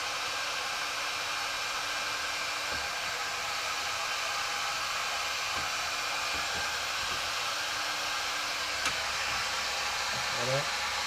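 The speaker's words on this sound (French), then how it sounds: "Là, décapeur thermique, on chauffe le vibroquin." A heat gun warms a part of a 1969 Solex 3800 moped engine during teardown, giving a constant loud whooshing roar throughout, with a few faint clicks and taps near the end.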